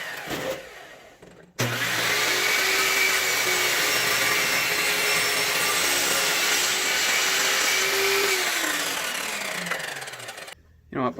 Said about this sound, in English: I wonder if I can use the table saw for this.